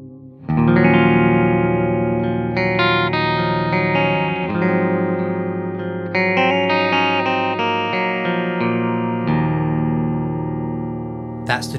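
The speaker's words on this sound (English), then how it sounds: "with a clean sound using my trusty old telly here on the middle selection, so both pickups on, true bypass sound" Clean electric guitar played on a Telecaster with both pickups on in the middle position, heard dry through true bypass: strummed chords and ringing arpeggiated notes, close, steady and unaccompanied, with short gaps between chord changes.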